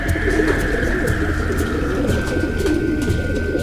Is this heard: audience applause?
no